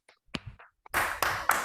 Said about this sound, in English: I think we should all give a big round of applause to past International President Mahendra Amarasuriya for fighting on our behalf.